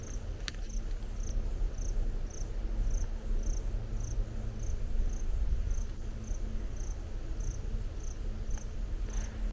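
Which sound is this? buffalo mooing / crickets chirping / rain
crickets chirping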